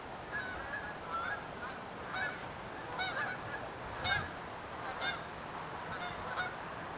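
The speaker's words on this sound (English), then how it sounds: "Geese." Geese honk repeatedly at a distance in Dallas, a loose series of nasal calls spread across several seconds over a steady outdoor hiss.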